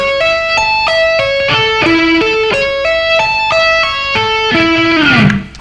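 Slow electric guitar arpeggio played with tapping, hammer-ons and pull-offs, a clean, sustained run of stepping notes in a steady rhythm that repeats in cycles, ending with a bending, sliding note, loud and close with no talk.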